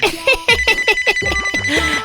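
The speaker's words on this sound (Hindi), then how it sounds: "मेरा फोन ही बज रहा है।" A phone rings with a rapid, repeating electronic melody, loud and close, playing continuously for a couple of seconds.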